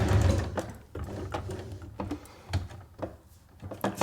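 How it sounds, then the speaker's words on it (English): A sewing machine stitches diagonally across the corner of a zipped make-up bag, its motor running in short mechanical bursts with brief pauses as the fabric is pivoted and guided. "Pivot it and then just sew diagonally up here."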